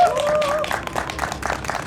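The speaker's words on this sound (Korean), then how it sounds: "박원석 현 정의당 경기도당 위원장님을 큰 박수로 소개하도록 하겠습니다." Crowd at a live Justice Party political talk event claps to greet a party official, a brief thin whistle-like tone at the start before choppy, scattered applause continues, moderately loud.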